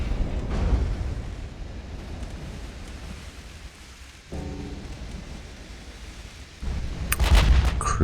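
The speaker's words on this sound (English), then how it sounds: "Using 16-inch guns. Firing with tube powder," Heavy 16-inch warship guns firing tube-powder shells in the naval game Ultimate Admiral: Dreadnoughts, sounding as deep booming blasts with rumbling rolls over a constant low battle din, and a louder burst coming near the end.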